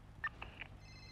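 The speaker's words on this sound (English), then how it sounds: "I'm getting a phone call." A phone rings in a GTA NoPixel roleplay, giving a few short, faint electronic chirps over quiet background hum.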